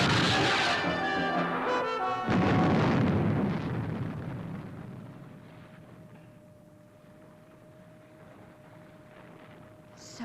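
A cartoon missile rocket ignites and launches with a loud roaring blast that holds for a couple of seconds, then a rushing burst that slowly fades away into a thin, distant hiss.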